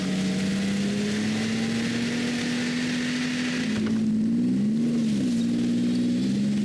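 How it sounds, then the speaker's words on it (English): A snowmobile in low gear drones steadily while hauling a tree section over snow at a cottage in April, its engine tone holding even and then wavering slightly near the end, close and continuous with no talk. "set the snowmobile in low gear, and off we go, hauling the tree section to our parking lot"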